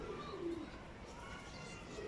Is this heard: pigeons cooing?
yes